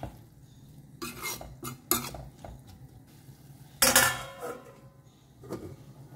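A spoon stirs mackerel curry in a cooking pot with scraping clinks, and a lid clatters down loudly partway through. Metal knocks sound near and clear over a quiet background, with no talking.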